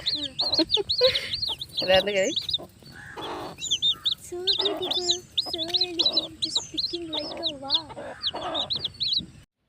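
A hen with newly hatched chicks clucks in a run of short, repeated calls, with some higher chirps mixed in. The sound is fairly close, and the bursts are uneven across the whole stretch.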